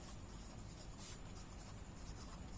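Pen writing on paper, a soft, steady scratching close by, faint and continuous with no voices.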